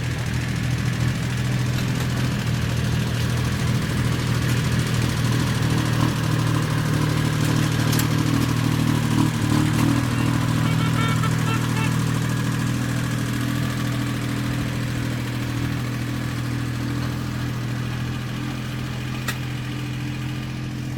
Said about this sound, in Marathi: इकडे ट्रॅक्टर आला